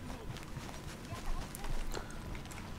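Horse hooves clip-clopping on the ground in the video game Red Dead Redemption II, a steady run of close, moderately loud footfalls under someone speaking.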